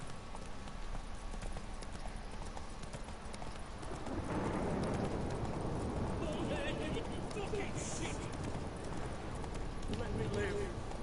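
Hoofbeats of Roach, a horse in The Witcher 3 video game, break into a steady galloping clip-clop about midway, loud and continuous over game ambience, with a voice talking throughout.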